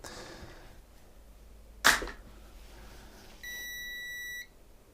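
A steady electronic beep tone lasting about a second follows a sharp click, with faint background hiss.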